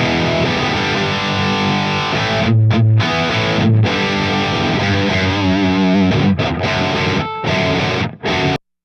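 Heavily distorted electric guitar through a Fractal FM9 Mark V amp model, channel 3 in Mark IV mode, playing loud palm-muted riffs and ringing held notes with brief breaks, close and dense.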